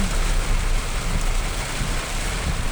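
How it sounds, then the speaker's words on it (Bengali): Heavy rain pours down on a city road near Banani crossroads in Dhaka, a loud, continuous hiss of downpour on surfaces with low rumbling, no voices. "ঝুম বৃষ্টি হচ্ছে"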